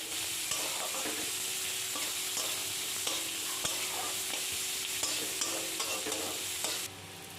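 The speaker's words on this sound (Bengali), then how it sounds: "পেঁয়াজটা আমি এখন নেড়ে চেড়ে নিচ্ছি।" Chopped onions with black cumin fry in mustard oil in a pan, giving a steady, close sizzle broken by regular scraping stirs of a spatula, with no talking.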